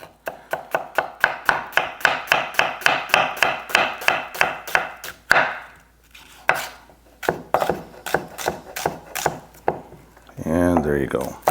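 A knife chops half a yellow onion into thin strips on a cutting board, giving a fast, even run of close, crisp taps, then a pause and a few slower cuts before a voice speaks.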